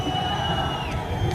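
A football stadium crowd at Guarani's Brinco de Ouro roars in a dense, continuous wave of booing and jeering aimed at the home side after a 2-0 loss to Botafogo in the 2022 Paulistão.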